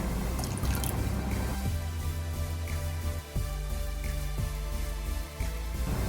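Vinegar trickles and drips into hot milk as it curdles for rasmalai, a close, steady liquid pour with soft splashes and no talking.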